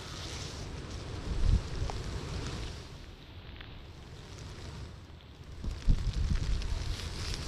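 Typhoon Kristine's wind sweeps over farmland, a steady rushing roar with gusts buffeting the microphone in low thumps around the second and sixth seconds.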